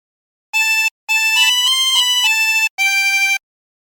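A harmonica plays a short phrase of the hymn Be Thou My Vision, three clean sustained note groups with brief gaps, the middle one shifting through several pitches, bright and close with no talking.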